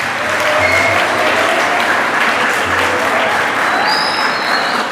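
Sustained audience applause at a school event for CSS officers, dense and loud throughout with steady clapping and no voices standing out.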